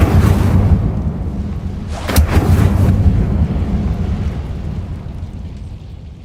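Incendio fire spell cast in Hogwarts Legacy, a loud booming rumble with a sharp burst near the middle that rolls off into a long fading roar.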